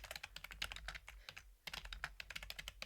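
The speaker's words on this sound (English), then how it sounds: "can you hear me typing?" Typing on a computer keyboard, rapid clicky keystrokes in quick bursts with a short pause midway, close and fairly quiet, with no talking.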